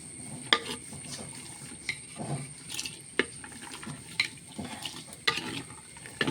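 Okra and tomato are stirred in a pan on the stove, with repeated spoon scrapes and clinks at irregular intervals over a soft, continuous sizzle, close and moderately quiet, no talking.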